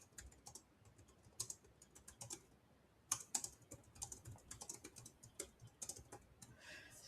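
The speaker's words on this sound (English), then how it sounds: "It's hard to type while I'm talking" Steady typing on a computer keyboard, a rapid irregular run of light key clicks with a few louder strikes, close and fairly quiet, with no talking.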